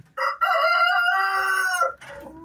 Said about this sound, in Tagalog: Ayan yung rooster natin mga kaibigan.